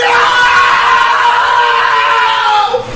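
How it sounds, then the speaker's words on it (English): One person's long, loud scream held at full strength for about three seconds, shrill and strained, before it cuts off abruptly. "Stop screaming."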